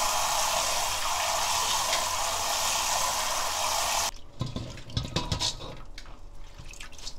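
Hijiki seaweed is rinsed under a strong stream of running water that rushes steadily for about four seconds and then cuts off, leaving close drips, splashes and wet handling.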